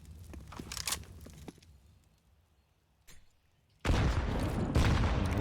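A grenade detonates in Counter-Strike on the Inferno map during a pro esports match: a sudden, loud, close burst of broadband blast noise that roars on for well over a second after quieter gunfire-like crackles.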